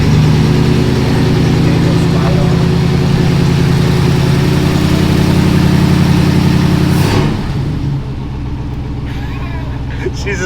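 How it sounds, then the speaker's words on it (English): A barn find car's engine, just started, revs in a loud, steady, throaty drone for several seconds and then drops back to a rougher, quieter idle, heard close with people talking faintly nearby. "Rev it up just a little, Paul."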